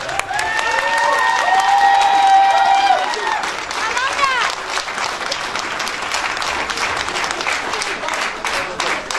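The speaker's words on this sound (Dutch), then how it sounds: "En er mag nog een applaus bij." Loud, sustained audience applause fills a children's carnival election announcement in East Flanders, with cheering voices over the clapping at first, then steady clapping to the end.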